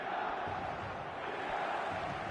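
In the eFootball video game, a simulated stadium crowd roars as a comeback builds, a continuous, even swell of cheering and chanting with no pauses.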